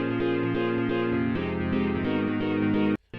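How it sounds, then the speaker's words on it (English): Moonscape piano preset in Ableton Live plays sustained, layered tonal notes with a steady rhythmic pattern, loud and continuous, cutting off abruptly near the end. "Moonscape piano."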